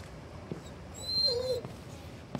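Sumo, the dog in Detroit: Become Human, gives a soft, high whimper partway through, quiet and brief against a low game background with a few faint taps.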